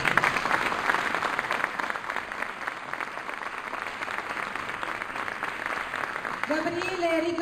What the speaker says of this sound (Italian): il service Gabriele Pagani, un applauso.